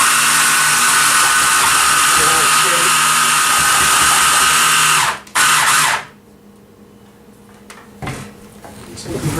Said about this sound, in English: So I'm really just pureeing the aioli right now.